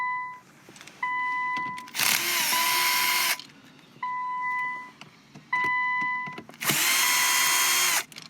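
A power drill backs screws out of a monitor panel in a 2015-2017 Infiniti Q50 dashboard, several short high-pitched whirring bursts separated by pauses, close and loud, with faint beeping tones in between.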